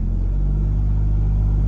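A Honda Integra engine idles loudly and steadily at close range, a deep, even rumble with no revving or speech over it.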